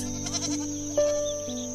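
Goats bleat in a soft, calm setting. A couple of short wavering cries sit over a steady tonal background, faint and close, with no talking.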